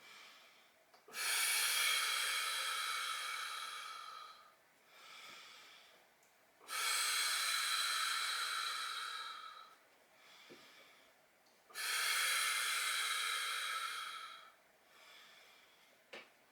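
Three long, loud breaths, each lasting about three seconds and separated by short pauses, taken during a seated chair fitness exercise for the core and pelvic floor, with no talking.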